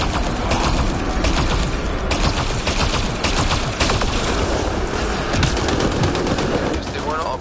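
Dense, loud gunfire from a Mass Effect: Andromeda firefight, rapid automatic bursts and overlapping shots running continuously with mechanical clatter mixed in.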